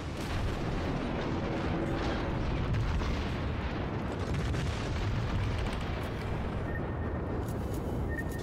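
Naval shells from World of Warships gunfire strike ships in a dense, continuous roar of booms and blasts, loud and sustained with overlapping rumbling impacts throughout.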